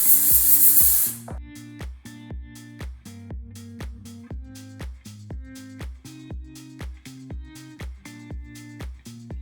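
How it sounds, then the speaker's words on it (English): A steam cleaner blasts Shimano Ultegra RD-6700 road rear derailleur parts with a loud, close hiss for about a second, then cuts out, leaving a steady rhythmic music bed. "but then I'm also gonna steam clean everything"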